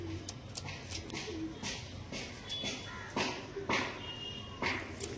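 Pigeons coo in soft repeated low calls, with scattered wing flutters and shuffling sounds throughout, fairly quiet and close.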